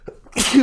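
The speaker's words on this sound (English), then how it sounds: "I think I have to sneeze." A single person sneezes once, close and loud, after a short breathy intake; a brief spoken exhale comes just before it.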